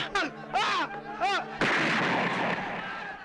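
Shouting voices followed by a single loud, booming gunshot from a movie scene that decays into a long rumbling echo.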